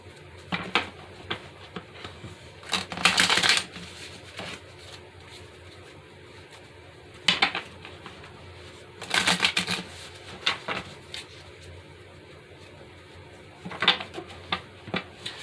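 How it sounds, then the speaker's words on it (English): Short bursts of riffling cards at intervals, a deck being shuffled nearby several times with quiet pauses between. "I'm still learning how to shuffle"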